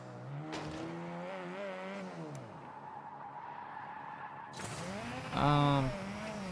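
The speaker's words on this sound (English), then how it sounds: "If I want to take a really sharp turn, I'll use the e-brake to get into that turn and then boost to take the turn." A car in the mobile game Tuning Club Online drifting with e-brake and boost, rising and falling engine tones with tire skid squeals, a louder screech near the end, under a voice.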